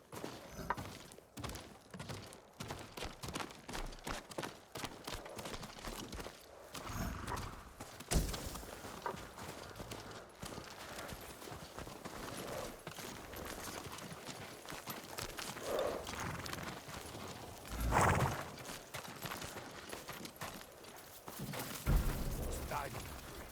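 Horse hooves clip-clop through much of the stretch in Ghost of Tsushima, a steady walking rhythm of moderate loudness mixed with game sounds, a few heavier thumps and booms, and people talking over it.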